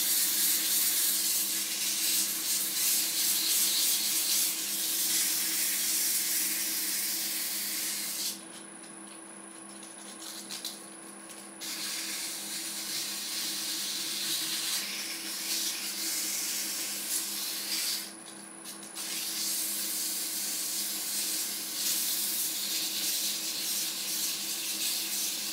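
120-grit sandpaper rubs against a spinning milk pear candlestick base on a wood lathe, a steady close hiss broken by two short pauses while the motor hums underneath.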